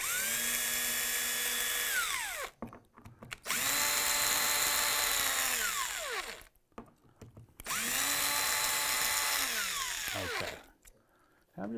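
A power drill backing screws out of an old painted door hinge, three long whirring runs that spin up, hold a steady whine, then wind down, separated by brief pauses, loud and close.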